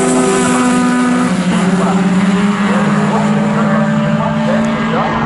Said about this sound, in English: he's on the outside line for Rick Cheese and sweeps his way round the outside of Jamie Jeffrey to retake up the lead of the race